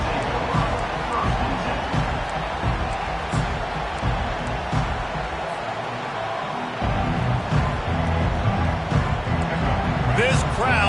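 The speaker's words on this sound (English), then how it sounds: "This crowd bringing an ear-splitting welcome to their visitors." Stadium crowd roaring in the football game Madden, a dense continuous roar with cheers and whoops throughout, under play-by-play commentary.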